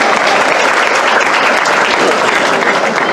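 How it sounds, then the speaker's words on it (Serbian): Loud, sustained applause from a crowd at a political rally in Nova Topola, cheering young basketball players from the local club Top Basket, a dense unbroken clatter of clapping throughout. "veliki aplauz za te mlade ljude"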